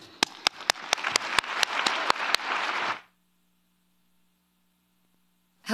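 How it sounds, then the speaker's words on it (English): Applause from an audience at the United Nations General Assembly, a dense wash of clapping for about three seconds with a few sharp loud claps on top, then a sudden cut to near silence. "They deserve a big applause."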